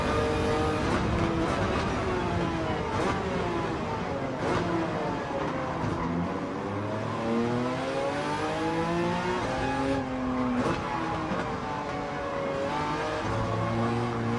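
A Gran Turismo 7 race car engine revs hard and steadily through gear changes, its pitch sweeping up and down in repeated climbs, loud and continuous, with other cars' engines blending in.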